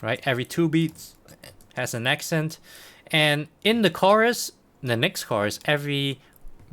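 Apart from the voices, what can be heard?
No distinct noise like a dog, phone or traffic.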